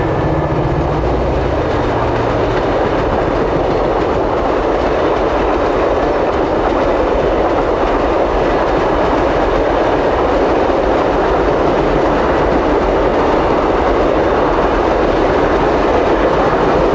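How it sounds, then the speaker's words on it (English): A diesel locomotive hauling a 16-car overnight passenger train rumbles past close by, a loud, continuous roar of engine and rolling wheels that stays steady throughout, with no voices. "G518 heads 16 cars on the overnight train from Sydney."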